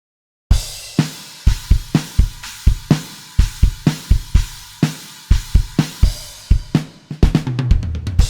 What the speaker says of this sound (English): the drums by themselves now sound like this